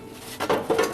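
Metal baffle plate being set back into a HearthStone Manchester or Heritage pellet stove, a few short clanks and scrapes of metal on metal, close and moderately loud, no talking.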